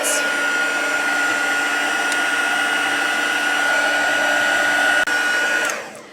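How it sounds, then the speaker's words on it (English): An embossing heat tool setting embossing powder on a handmade card blows with a loud, steady whooshing roar for several seconds, then cuts off and winds down at the end. "I'm just going to use my heat tool and just set these."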